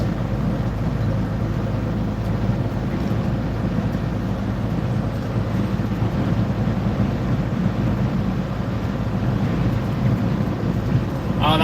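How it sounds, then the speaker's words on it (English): Strong gusting wind buffets a car on the road near New York City, a loud, continuous low rumble and roar of air against the moving vehicle with no clear speech. "We are getting pushed around in this wind."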